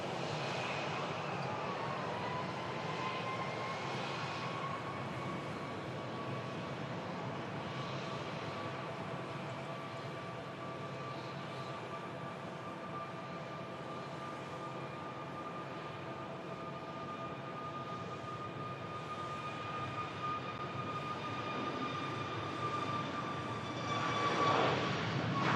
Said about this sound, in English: The Ryanair Max 8-200 for Paris Beauvais is just about to begin